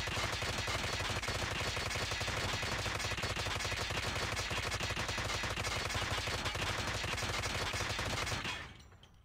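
A Holger 26 submachine gun fires in video game gameplay: one long, unbroken, rapid automatic burst, loud and close, holding steady for about eight seconds before it stops sharply and fades away.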